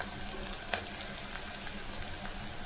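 Shallots sautéing in a pan give a steady, dense sizzle that holds evenly throughout, with one brief clink of a utensil near the start.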